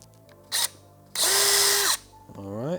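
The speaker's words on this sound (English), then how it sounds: "We're drilling polypropylene, so it doesn't take very much to penetrate." A power drill spins up in a short burst, then runs in a longer steady whine while biting into a polypropylene fender eliminator on a 2022+ Yamaha R7 motorcycle, then winds down.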